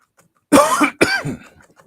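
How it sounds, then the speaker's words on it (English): A man has a brief coughing fit: two harsh, close coughs in quick succession, followed by a faint breathy trail, with no other sound. "after I get done with my little coughing fit"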